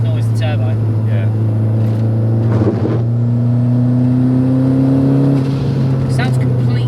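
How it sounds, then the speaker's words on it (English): A turbocharged 525 bhp Renault Megane 225 engine idles with a steady low drone, then rises in pitch as it revs, while people talk quietly nearby. "Makes a nice noise, the turbo."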